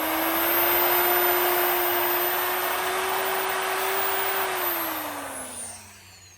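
A power drill boring pilot holes into gazebo timber during assembly, one sustained loud whine that holds steady, then winds down in pitch and fades as the drill stops near the end.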